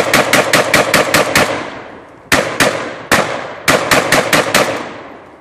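Saiga 12 semi-automatic shotgun fired outdoors by a creek, loud close blasts in fast bursts: a rapid string of about eight shots, a lone shot, another, then a second quick burst of about six, with no talking.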